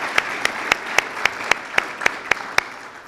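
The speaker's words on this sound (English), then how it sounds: "deserves a round of applause" An audience at a talk about domestic abuse shelter funding claps steadily and rhythmically. Evenly spaced claps ring out over a dense bed of applause for the whole stretch.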